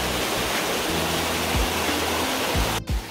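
Yukdam Falls in Seoraksan's Towanggol valley, a tall cascade pouring into deep pools, roars as a steady broadband rush of water close by, continuous and loud with low thumps underneath.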